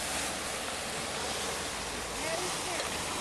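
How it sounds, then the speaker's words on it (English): Ocean waves washing onto the shore in Maine, a steady broadband rush of surf filling the whole moment, with faint voices in the background. "you can film the waves as easy as that."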